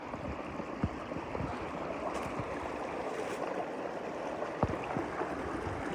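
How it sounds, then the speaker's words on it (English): A small creek flows steadily at a trail crossing, a close continuous rush and gurgle with occasional splashes or steps, no voices. "Nice little creek crossing"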